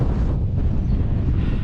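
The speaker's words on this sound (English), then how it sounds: "It's a bit windy" Steady wind at Grisedale Tarn in the Lake District buffeting the microphone, a low rumbling roar that holds constant throughout with no voices.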